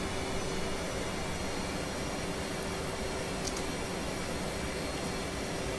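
A jet aircraft in the DCS World flight simulator flies a carrier approach with its throttle coming back, giving a steady, even, broadband engine roar that stays constant throughout, with no voices.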